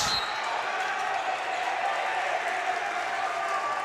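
Loud crowd roars and cheers in a gym during a high school St. Peter's Prep versus St. Thomas Aquinas playoff game, a continuous dense wash of noise close by, with a sharp bounce or slam at the start.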